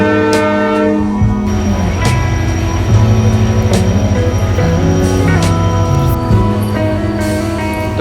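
A train pulls into Dhasa junction railway station with loud, sustained horn blasts over rumbling wheels and carriages, close by and continuous throughout.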